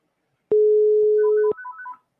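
A VTech cordless phone placing a call through a cheap SIP service gives one long steady tone lasting about a second, then a quick run of short beeping tones, clear and alone.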